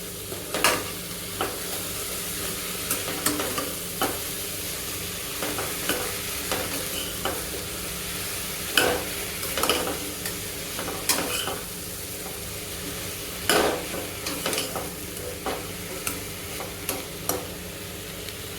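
Chopped radish frying over a low flame for a radish gravy, a soft continuous sizzle under repeated close scrapes and knocks of a ladle stirring the pan, with no voices.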